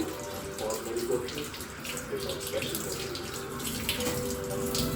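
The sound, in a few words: washing fish under running tap water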